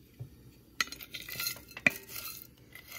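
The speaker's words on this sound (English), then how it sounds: "You want to stir because you don't want anything to burn." Cinnamon sticks and dry spices toast in a pot while being stirred, with faint scraping and a few louder clinks of a utensil against the pot, close and without voices.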